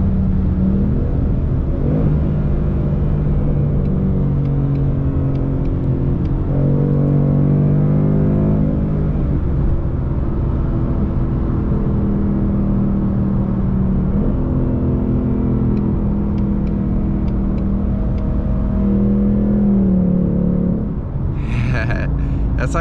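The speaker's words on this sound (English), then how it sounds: "when they see a Mustang and they hear the exhaust" A Ford Mustang GT's exhaust growls loudly up close, its engine note climbing several times as it accelerates hard through the gears in traffic at night.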